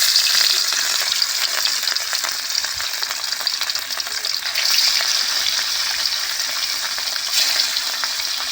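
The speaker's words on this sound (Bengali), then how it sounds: "কড়া বসিয়ে দিয়েছি, কড়ায় তেল দিয়ে দিয়েছি। মাছগুলো একে একে ভেজে নেব।" Marinated katla fish pieces fry in hot oil in a wok, a constant bright, spattering sizzle with faint stirring beneath, near and even throughout, with no one speaking.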